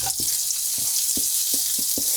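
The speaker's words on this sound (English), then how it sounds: "When the oil is hot, add the sausages to the skillet" Sausages frying in hot extra virgin olive oil in a skillet, giving a loud, steady close sizzle with a few soft rhythmic taps or scrapes underneath and no voices.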